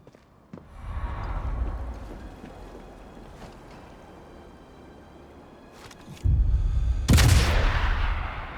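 Suppressed subsonic rifle shots in the video game Sniper Elite Resistance come as a few muffled thumps, one early and a heavier pair near the end, over quiet game ambience with no speech.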